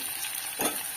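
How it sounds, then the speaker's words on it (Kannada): Okra frying in oil in an Andhra-style pulusu, a steady close sizzle with a brief swell of stirring or spattering partway through. "ಅದಕ್ಕೋಸ್ಕರ ಎಣ್ಣೆನಲ್ಲೇ ಜಾಸ್ತಿ ಫ್ರೈ ಮಾಡ್ಕೋಬೇಕು ನೋಡಿ"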